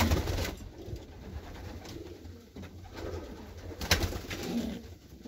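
Racing pigeons coo softly and somewhat distantly in repeated low, throaty phrases, with faint background noise and no talking.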